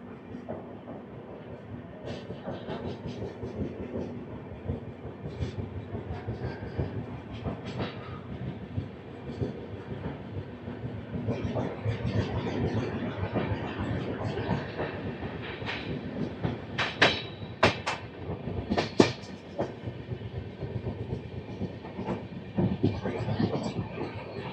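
The Howrah Mail express, Chennai Central to Howrah, runs on the tracks leaving Tenali, with a steady close rumble and rhythmic clickety-clack of wheels and occasional sharper rattles.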